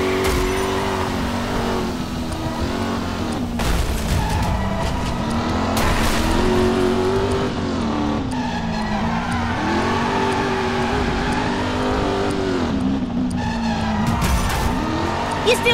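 Cars drifting and skidding in the driving video game Driver San Francisco: continuous engine roar with rising and falling revs and repeated tire squeals, loud throughout, with background music.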